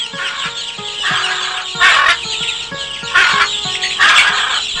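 Parrots arriving to eat scattered grain in a fairy-tale scene call out in repeated loud, harsh squawks and chatter. Several bursts come in a quick, uneven rhythm, close by, with no talking.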